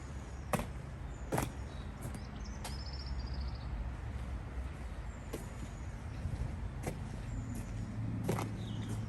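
A road vehicle hauling a new trailer idles and rumbles low and steady, while a few sharp metallic clicks and knocks ring out at intervals over the engine hum; no one speaks.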